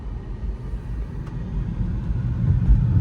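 Steady low road rumble and engine drone heard from inside a 1999 BMW 328i while driving, a continuous close interior noise that swells slightly toward the end, with no talk.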